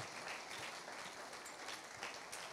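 Applause from a church congregation during a French-language worship service, a steady wash of clapping that holds at an even level throughout with no voices rising above it.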